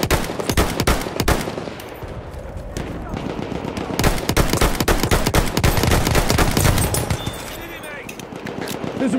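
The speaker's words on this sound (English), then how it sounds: "There's a machine gun!" Rapid machine gun fire in a first-person shooter video game, loud dense bursts running through most of the stretch with shouted voices over the fighting.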